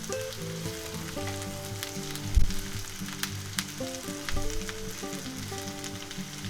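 Onions and peppers fry in a pan with a continuous close sizzle and crackle, broken by a brief clatter of a utensil partway through, while soft background music plays.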